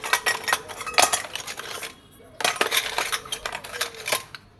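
A small metal rice pot and small plates clink and rattle as they are handled, in bright, close, irregular bursts of metallic taps with a brief quiet gap in the middle, with no talk over them.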